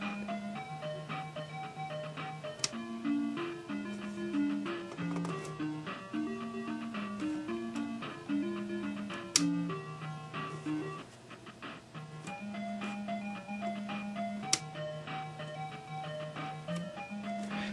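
Chiptune game music plays from a Sega Master System 2 running at 60 hertz, a bouncy repeating melody over a pulsing bass line with occasional sharp clicks, steady and alone without voices.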